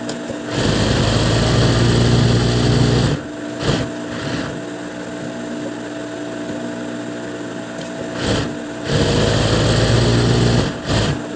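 An industrial sewing machine runs in loud bursts of rapid, buzzing stitching, stopping and restarting several times with brief quiet gaps between runs, close to the listener and with no talking.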